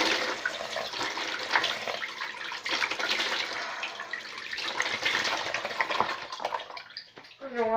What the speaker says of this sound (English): This time I'm gonna wash my face very good.